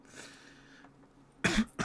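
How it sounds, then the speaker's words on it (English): A single sharp cough bursts out close by, followed by a shorter second cough, with quiet room tone before it. "Sorry about the cough."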